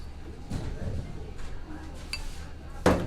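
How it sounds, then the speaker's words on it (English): A baking tray of homemade biscuits slides into a 400-degree oven, with soft kitchen clatter and one sharp metallic clank near the end, a voice talking over it. "And then I'm gonna put them in the oven"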